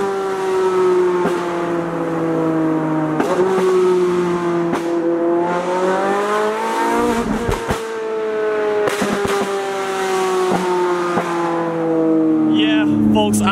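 A Ferrari 458 GT3 race car's engine revs loudly and close by, its high, steady howl rising and falling through repeated throttle changes with brief gear-shift dips.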